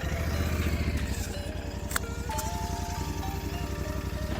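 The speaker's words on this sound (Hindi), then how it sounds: "अब ये इसका इनिशियल स्टॉक एग्जॉस्ट की आवाज़ है।" A motorcycle with its stock exhaust idles close by, a steady, loud, even low-pitched putter that holds throughout with one brief sharp knock, and no talk.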